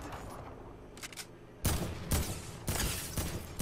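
Pistol gunshots in Fortnite, a string of sharp loud shots fired one after another in the second half, preceded by quieter game sounds.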